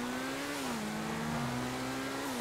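Ferrari engine in GTA 5 Online, a steady, loud, close droning note that holds at high revs, dips briefly, then holds again with no break, with no voices.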